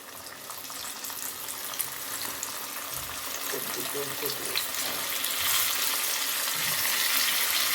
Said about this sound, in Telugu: మళ్ళీ అదే విధంగా వేస్తున్నాను చేపలు.